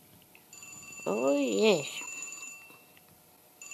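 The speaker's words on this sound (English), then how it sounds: "Is that my phone ringing?" A mobile phone rings with a steady high electronic tone running through most of the clip, while a voice speaks briefly over it with a wavering, drawn-out exclamation.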